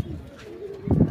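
Pigeons and young squabs coo softly in a loft: a brief low, throaty coo with faint rustling, and a louder burst of fluttering at the end.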